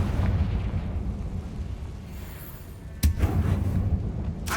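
A fiery Confringo spell blast from Hogwarts Legacy erupts in a tomb, first as a rumbling booming wash, then as a sharp explosive burst near the end, with a further crack at the very close.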